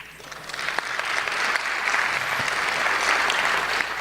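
Audience applause at a Tamil pattimandram debate show, a small crowd clapping steadily and close, rising slightly after the start and holding at an even level throughout.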